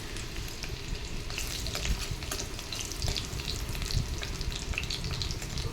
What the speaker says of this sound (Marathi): आता हा लसूण आपल्याला हलका गुलाबी रंगावर परतून घ्यायचा आहे